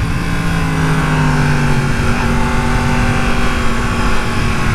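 A Yamaha FZ-07 motorcycle engine revs loud and close, holding a steady, continuous roar throughout with no speech over it.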